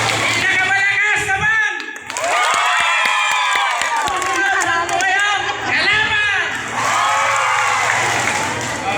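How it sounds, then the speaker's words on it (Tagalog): Crowd at a community Christmas gift giveaway cheering and shouting loudly, with children's voices among them and a burst of clapping early on, the noise staying loud and continuous. "Palakasan po ng palakpak."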